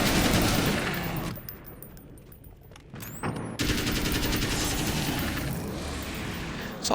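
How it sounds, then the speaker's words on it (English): An assault rifle rattles in Alan Wake's American Nightmare, with sustained automatic bursts that fade into a quieter lull with metallic clinks, then loud continuous firing resumes and runs to the end. "Assault rifle does the job."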